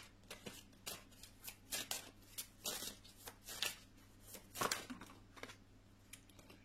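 Tarot cards are riffled and flicked in a quiet room during a love reading, a soft, uneven series of papery slaps and shuffles repeating every half second or so, with no talk.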